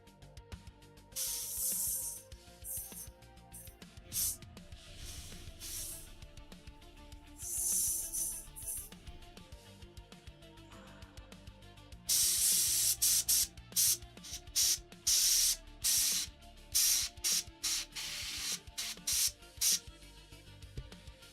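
Airbrush spraying paint onto a scale model AMX-30 B2 Brennus tank, heard as repeated bursts of close, loud hiss in short and longer pulses, with a long sustained spray midway followed by quick choppy bursts.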